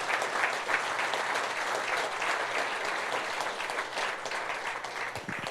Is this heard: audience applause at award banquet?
yes